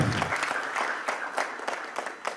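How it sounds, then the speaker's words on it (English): A round of applause from the audience at a dry fruit and nut industry fireside chat event, dense and steady clapping that holds at moderate loudness before thinning slightly. "a warm round of applause for our speaker"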